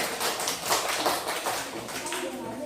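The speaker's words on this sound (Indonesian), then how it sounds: "tepuk tangan untuk kelompok kejujuran" A class group in a teacher training session applauds, giving a run of quick, fairly close hand claps with an uneven rhythm. The clapping carries on steadily without a break.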